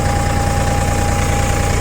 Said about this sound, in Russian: вот так спокойненько работает трактор, без каких-либо нареканий